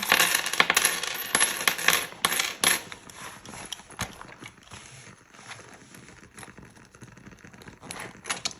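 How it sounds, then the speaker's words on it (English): A large pile of coins is emptied out, spilling in a dense, loud jingling clatter for the first few seconds before thinning to scattered softer clinks and rustling. "I emptied out a lot of my coins"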